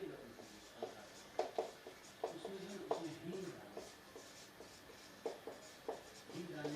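Chalk or marker writing on a board during a Hindi-language math lesson on real numbers, short scratchy strokes and taps in irregular bursts, faint and close, with a teacher's voice speaking intermittently around them.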